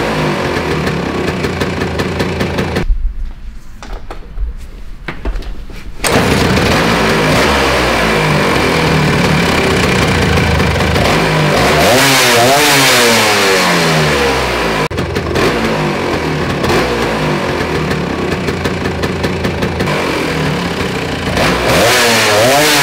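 Vespa PX or PK scooter with a modified carburetor, a loud two-stroke engine revved repeatedly, pitch sweeping up and down in waves after a brief drop to idle, close and continuous.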